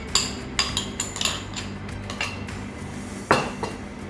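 A spoon stirs cake batter with unsalted butter in a bowl, making a run of close, irregular clinks and scrapes against the bowl over a few seconds, with a louder knock near the end and no talking.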